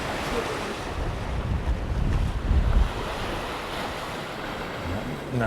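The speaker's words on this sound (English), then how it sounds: "Now looking at the sea, it is actually quite rough and the wind is quite breezy." Rough sea waves wash and surge at a Mallorca bay, Camp de Mar, under steady breezy wind buffeting the microphone, a continuous moderate roar with a swell in the middle.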